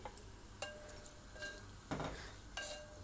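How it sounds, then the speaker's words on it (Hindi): Vinegar-marinated boneless beef for a beef handi frying in a pot with sautéed spices, heard as a quiet sizzle broken by a few short scraping stirs and utensil clinks. "अब इसमें हम अपना मैरिनेट किया हुआ गोश्त डालेंगे, जो हमने सिरका लगा के रखा था"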